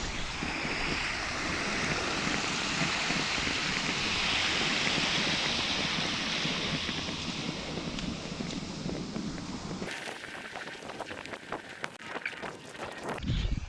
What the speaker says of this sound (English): yet another creek crossing